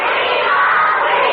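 A studio audience at a children's storytelling show gives a short, dense burst of applause and cheering that fills the whole moment evenly and loudly.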